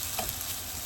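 Egg frying with chili in a hot pan while being stirred, a brief, loud, continuous sizzle with a faint scrape of stirring close by.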